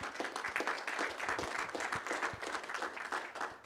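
Applause at a city commission meeting, a steady wash of many hands clapping at moderate distance for a few seconds.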